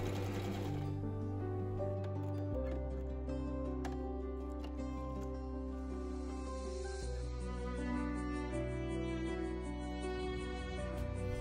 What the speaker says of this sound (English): I also practice on a piece of scrap cloth to make sure the machine's working right